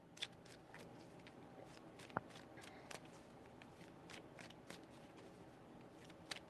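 A deck of tarot cards being shuffled by hand, a soft, steady papery riffle with quick flicks and light taps running through the whole stretch at low, close volume, with no talking.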